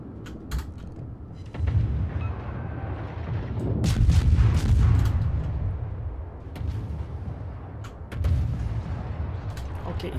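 Destroyer naval guns with Shenyang and 51Mk7 mounts firing in a naval video game, heard as deep booming reports and rumbling swells with scattered sharper cracks at medium distance.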